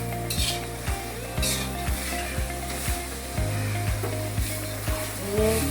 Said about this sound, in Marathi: मंद आचेवर असे हलवून घ्यावे। गूळ वितळेपर्यंत एक मिक्स होईपर्यंत हलवायचे।